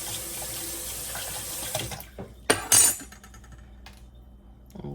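Tap water runs into a kitchen sink while a small pan used for cooking beet juice is rinsed out, a steady close splashing that breaks into louder bursts and clatters of the pan near the middle, then thins out.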